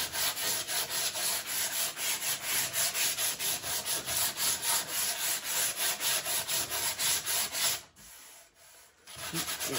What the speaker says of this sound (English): And then when I blast it with 60 grit